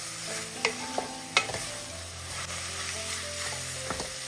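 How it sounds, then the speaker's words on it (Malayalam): A utensil scrapes and taps in a pan while idiyappam mixture is stirred together, with soft intermittent clinks and scraping strokes over a faint low sizzle, close and fairly quiet. "എല്ലാം കൂടി ഇതാ ഒന്ന് ഇളക്കി കൊടുത്തിട്ടുണ്ട്"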